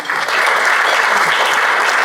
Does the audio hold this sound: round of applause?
yes